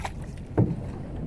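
A wooden rowboat on a river during hilsa fishing, with one close oar stroke splashing midway through a brief, low wash of water and wind.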